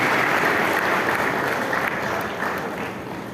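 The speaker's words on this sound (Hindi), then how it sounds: "जोरदार तालियों से सम्मानित करेंगे" Steady applause from a large audience at a Kanu community district conference in a town hall in Khagaria, a dense wash of clapping that fades slowly toward the end.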